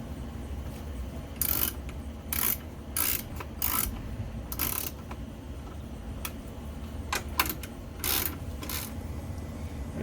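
A ratchet clicks in short bursts as it tightens the coolant reservoir bolts on a Chevrolet Sonic, several quick rattling runs spaced apart over a low steady hum, close and fairly quiet.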